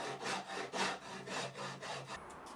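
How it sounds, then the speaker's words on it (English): A rasp shapes a wooden axe handle in about seven quick, rhythmic back-and-forth strokes, each a close, gritty scraping rasp, with no voices. "I decided to move on to the rasp to get most of the shaping done."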